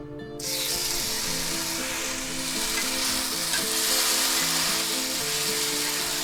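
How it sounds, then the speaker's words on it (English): A tablespoon of minced garlic hits hot oil in a pan with a sudden loud burst of sizzling, then a dense, steady hiss that holds close and strong with no talking. "We're going to go ahead and put 1 tablespoon of minced garlic in there."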